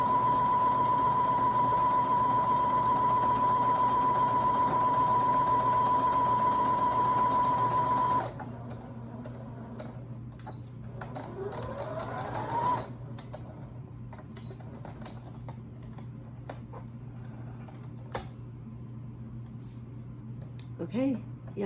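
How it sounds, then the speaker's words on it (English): A sewing machine stitches right along the edge of a sample fabric for a prom dress alteration, running in a steady close whir for about eight seconds before stopping, followed by faint handling clicks. "I'm going to sew on my sample fabric to see how it works"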